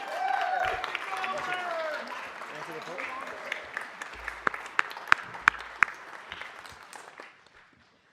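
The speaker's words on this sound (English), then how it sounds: "Let's give one more round of applause for Jackie Goldberg." Audience applause at a Los Angeles city council meeting, a steady wash of clapping from a crowd that swells, then tapers and fades out by the end.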